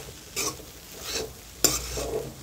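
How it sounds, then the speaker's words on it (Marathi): Kande pohe with fresh coriander stirred in a hot pan: a few slow scraping strokes over a soft, low sizzle, with one sharper metallic knock near the end, close and without voices. "ते चांगलं हलवून घ्यायचं"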